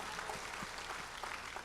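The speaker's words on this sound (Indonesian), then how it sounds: "Tepuk tangan yang luar biasa buat Tuhan Yesus" Church congregation applauding during a worship service, a steady, fairly faint patter of many hands clapping throughout, without voices on top.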